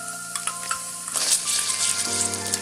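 Ginger paste hits hot oil while cooking chicken biryani, giving a loud, continuous sizzle and crackle that swells after about a second, with a few stirring clinks and no talking.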